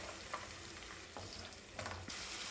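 Onion pieces with vegetables such as peas and carrots sizzle steadily in a hot pan while a spoon stirs them, a dense continuous frying hiss with stirring scrapes, close up and without voices.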